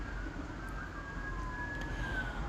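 Emergency vehicle sirens wail across a city, a steady rising and falling tone carrying from a distance over a constant low rumble of urban traffic, with no voices present.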